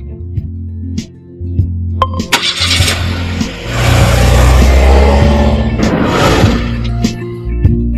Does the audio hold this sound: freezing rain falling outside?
no